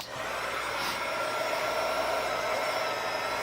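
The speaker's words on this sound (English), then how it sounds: "I'm going to warm up my heat gun and then melt it" Heat gun warming up for melting embossing powder on a Halloween card, a steady whooshing blower with a constant airy hiss and faint motor whine, moderately close and alone.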